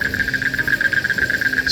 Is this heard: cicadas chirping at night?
yes